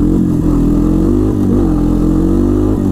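A Honda 300 Fourtrax 4x4 ATV engine pulls in first gear, a loud, close, buzzing drone with a steady pulsing beat and slight rises in pitch as it accelerates.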